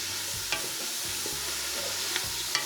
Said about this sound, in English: onions are going in, and the mushrooms, and the celery. I got carrots going in there too right now. Okay, so I'm gonna stir it up a little bit